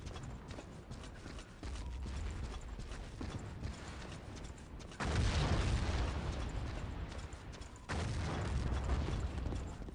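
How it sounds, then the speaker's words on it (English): Battlefield 1942 game combat with bazooka shots and explosions: rapid clattering impacts and bursts, with a louder booming blast around the middle and another surge of explosions near the end. "You can see all those bazooka shots flying around everywhere."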